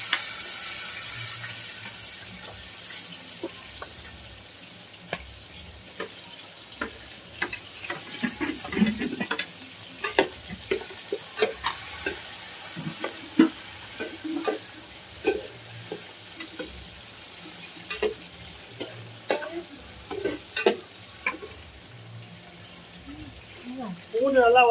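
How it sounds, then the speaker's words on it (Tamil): A large batch of garlic, about four kilograms, sautés in a pan for fish gravy with a continuous sizzle. Frequent scraping and clicking stir strokes sound over it, close and moderately loud for the whole stretch. "இது வதக்கிட்ட உடனே பூண்டு ஆட் பண்ணிக்கலாம்."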